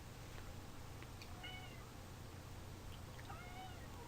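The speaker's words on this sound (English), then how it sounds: "My cat is crying because he wants attention." A domestic cat meows for attention indoors, giving two or three short, plaintive cries that sit fairly faint over a steady background hum.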